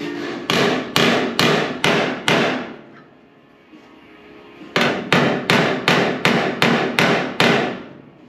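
Hammer tapping a chopped roof panel into place on a 1936 Ford, loud ringing metallic blows in two steady bursts of about six and eight strikes, separated by a short quiet pause.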